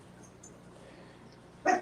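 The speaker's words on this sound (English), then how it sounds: "Yeah, my dog." A small dog lets out one short, sharp whimpering yip near the end, after quiet indoor room noise.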